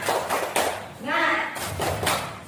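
A group in a classroom session performs a rhythmic spirit clap: short bursts of clapping in a patterned beat, broken by a brief chanted voice in the middle before the clapping resumes.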